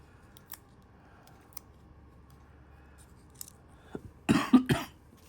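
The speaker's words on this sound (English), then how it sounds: "Sorry for the coughing intermittently." A person coughs once, close and sharp, then coughs again in quick bursts in an otherwise quiet room, after several faint taps and clicks near the start.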